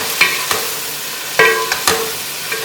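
Chopped green chilies sizzle and fry in a pan for a mustard chicken dish while a utensil stirs them, giving a soft, steady frying hiss broken by several sharp scraping clicks, close and without talk.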